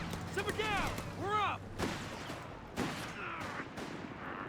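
Mortar rounds and other artillery thump and crack in a Company of Heroes 3 battle, several sharp blasts spaced unevenly, with faint whistling and clipped game voices in between.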